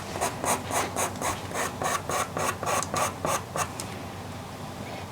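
A soft pastel pencil is rasped against a sharpener or sanding surface in about a dozen quick, evenly spaced strokes, close and moderately loud, then it stops.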